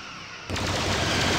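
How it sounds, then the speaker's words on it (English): Star Trek space combat game audio, with torpedo and phaser fire hitting hard after a short lull and then continuing as a loud, dense, rapid barrage. "I got all the torpedo and phasers firing at us."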